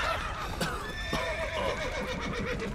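Horses neigh and whinny in a burning stable in the video game The Witcher 3, with several shrill, wavering calls over shuffling hoof clatter, close and fairly loud with no talk.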